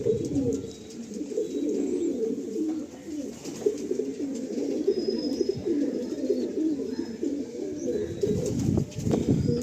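Tournament-quality homing pigeons coo in a continuous low, throaty chorus close by, overlapping rolls of cooing with a faint wing flutter and an occasional thin chirp behind them.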